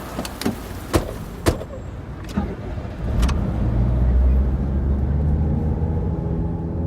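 A car in a quiet street: a few sharp door or handle clicks at the start, then the engine rumbles steadily and pulls away at moderate loudness.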